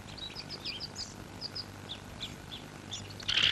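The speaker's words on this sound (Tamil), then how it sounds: "தலையில கூடு கட்டி குருவி எல்லாம் பறக்குது" Sparrows chirping in quick bursts of high, thin tweets, scattered and fairly close, over a low background hum, with a louder rustle right at the end.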